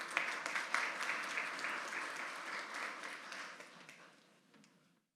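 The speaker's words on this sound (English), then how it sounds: "Let's give her a round of applause." A school audience at a scholars signing day gives a warm round of applause, steady clapping that carries for a few seconds, then thins and fades out.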